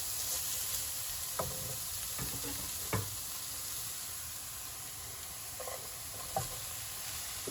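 Rice frying in a pan for veg fried rice, a steady broad sizzle with a few soft scraping stir strokes and light clicks of a utensil; no one talks.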